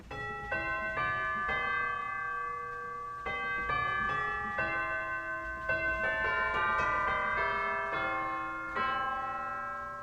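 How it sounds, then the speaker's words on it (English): Bright, tower-like chimes from a Casavant pipe organ's chimes stop ring out in a slow melodic sequence, each struck note sustaining and overlapping the next, clear and resonant with no voices. "we have 2 sets of bells. One is a set of chimes,"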